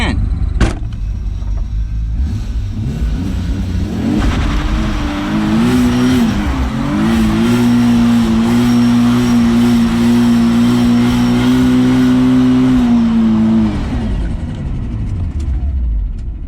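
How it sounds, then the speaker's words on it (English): A single-turbo R32 GTR doing a burnout, its engine held at high, steady revs for about ten seconds with tire squeal, loud and close, easing off near the end. "I love getting paid to do burnouts."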